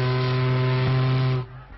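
A ship's steam whistle blows one long, loud, steady harmonic blast for nearly a second and a half, then cuts off abruptly, leaving a faint hiss of room noise.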